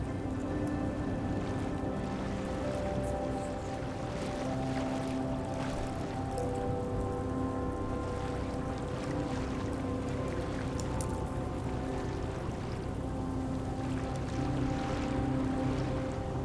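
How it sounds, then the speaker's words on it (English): Gentle water laps steadily against the hull of a zodiac boat drifting among icebergs in East Greenland, a soft, continuous watery wash with faint splashes and no talk. "listening to the cracking of icebergs and gentle lapping of water against the hull"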